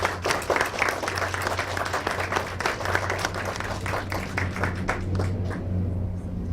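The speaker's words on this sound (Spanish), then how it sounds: "un aplauso si son tan amables" Audience applause at a round-table panel on sexual violence against children, steady dense clapping from a seated crowd that holds throughout and thins slightly near the end.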